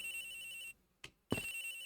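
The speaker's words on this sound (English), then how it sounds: "Agent Hicks' phone is ringing from somewhere, sir." A cell phone rings in the video game Ace Attorney Investigations, a steady electronic ringtone with a bright sustained tone that cuts out briefly, gives a short blip, then resumes at moderate loudness with no talking.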